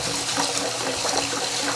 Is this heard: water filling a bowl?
yes